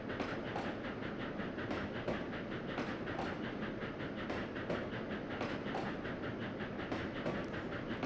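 A train running on rails in Trainz 2022 gives a continuous rolling rumble with a regular clickety-clack beat from the wheels, steady and fairly quiet, with no voices.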